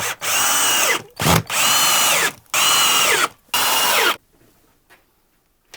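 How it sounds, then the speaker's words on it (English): Oscillating multi-tool cutting slits in wood, loud harsh buzzing bursts close by, four runs with short pauses between them, then quiet. "I need to get the multi-tool again because I need to make a couple of slits"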